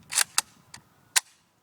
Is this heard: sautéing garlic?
no